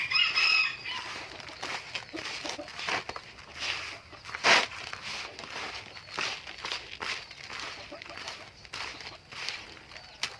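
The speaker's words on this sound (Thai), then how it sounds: "แล้วไก่ผมไม่เยอะก็ประมาณนี้นครับ" Chickens on a small farm, with a rooster crowing loudly near the start and again midway, and scattered clucking and rustling throughout.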